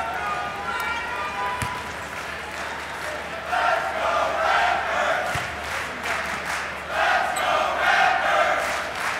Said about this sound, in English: Nice crowd in here today. This place is packed.